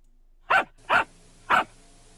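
Three sharp, evenly spaced dog barks from a flash video game ring out clearly, each a short loud burst with near silence between them.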